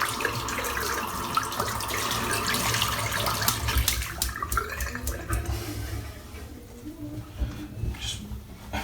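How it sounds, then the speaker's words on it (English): Shaving brush rinsed under a running tap at a sink, a steady broadband rush of water that is loud for most of the stretch and then tapers, with splashy spikes as the brush moves through the stream. "Just rinsing the brush out again there."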